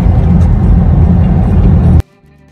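A car drives along a motorway service road on the way from Swat to Kalam, giving a loud, steady rumble of engine and road noise that cuts off abruptly near the end, leaving a much quieter hum.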